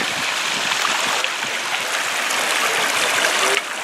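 Jack's Creek, a mountain stream in the Pecos Wilderness, rushes and splashes in a loud, continuous broadband wash of flowing water close by, with no voices.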